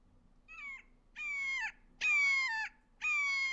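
Recorded red-shouldered hawk calls played back during a birds-of-prey program: four loud, close, drawn-out descending screams, each about half a second long, repeated at a steady one-per-second rhythm.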